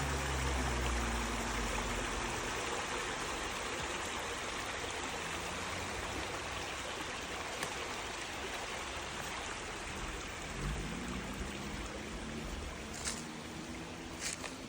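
A woodland creek runs over rocks in a steady, broad rushing wash, close and continuous throughout, with a few faint knocks and rustles on top.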